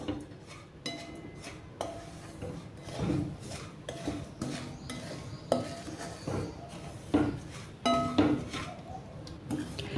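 Semolina (rava) dry-roasting in a pan on a gas stove, stirred steadily with a utensil that scrapes and clinks against the metal in repeated strokes, close and moderately loud with a faint sizzle beneath.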